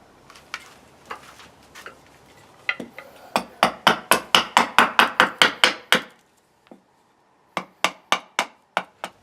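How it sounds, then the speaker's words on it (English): An axe chops down a wooden spoon blank with sharp, dry knocks, first a few sparse hits, then a fast, regular run of about a dozen close, crisp strikes, a pause, and a final short burst of blows. "all I'm going to do is just carry on axing this down until it's about as thin as I'm willing to make it with the axe"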